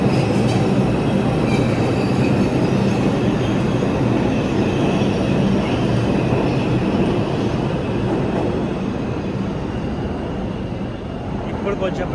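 A loud train rolls through a station, producing a constant heavy rumble and clatter with high wheel squeal, with voices faintly mixed into the roar.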